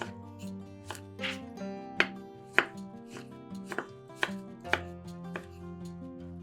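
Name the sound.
knife chopping tomato into cubes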